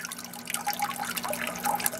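Water trickles and drips from a small siphon starter tube at a garden pond setup, a steady wet bubbling with scattered gurgles and small drops, close by and fairly quiet, with no voices.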